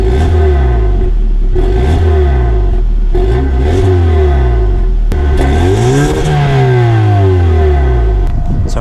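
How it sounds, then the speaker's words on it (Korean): Exhaust note of a Hyundai Sonata N Line 2.5 turbo gasoline engine, loud and close, with repeated revs rising and falling in steady bursts, then a longer rev climbing and slowly settling back to idle. "지금 이 차는 지금 시동이 켜져 있어서 배기 소리를 한번 들려드리도록 할게요."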